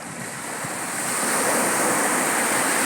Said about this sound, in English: I've used YouTube recordings of beach and ocean sounds like the one you're hearing now on my actual beach here in Puerto Galera